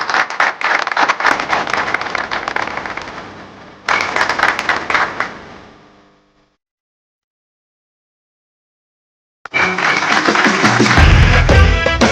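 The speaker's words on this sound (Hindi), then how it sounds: "तालियां।" Loud, dense applause from an audience at a stage magic show, dropping out into a gap of silence before another burst of clapping returns with a heavy low rumble.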